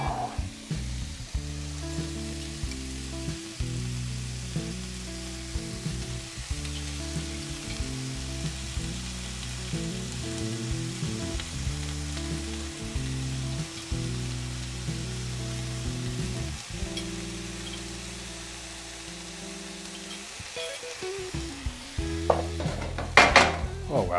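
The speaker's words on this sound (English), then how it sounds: "we're going to add in the garlic and the ginger. And also some kimchi." Carrots, garlic, ginger and kimchi fry in a pan for kimchi fried rice, a continuous close sizzle with stirring scrapes and light utensil clinks over steady background music.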